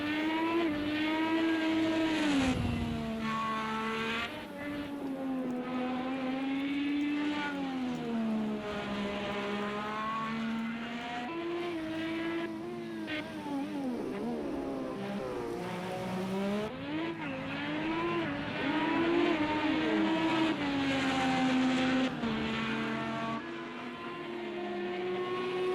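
Ed Carpenter Racing Chevrolet IndyCar, car number 6, lapping Laguna Seca with a loud, sustained engine note that rises and falls through shifts and braking into a hairpin, continuous throughout.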